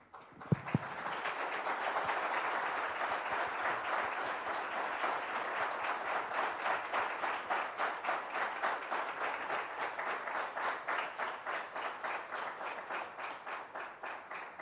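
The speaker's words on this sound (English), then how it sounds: "That story surely deserves that thunderous applause" A large audience at an LGBT inclusion summit in Gurgaon bursts into sustained, thunderous applause, dense clapping that holds loud and steady for many seconds before thinning into a rhythmic pattern of claps toward the end.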